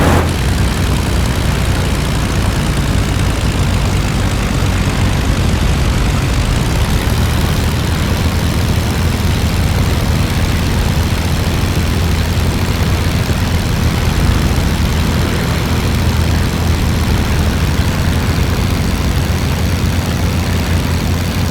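A World War One-era propeller aeroplane engine in a combat flight simulator game, a loud constant droning roar with a heavy low hum, unbroken and without talk.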